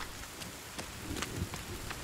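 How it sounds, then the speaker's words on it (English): Rain begins falling in a survival video game set in a forest, a soft hiss scattered with sharp, separate drop ticks and patters over two seconds, with no talking. "It's gonna rain now."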